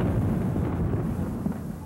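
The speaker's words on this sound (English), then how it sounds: "You could hear a rumble and an explosion" A deep, heavy rumble and explosion as a plane hits the South Tower of the World Trade Center, a dense low roar that stays loud and sustained throughout.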